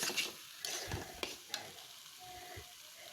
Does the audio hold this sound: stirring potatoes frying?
yes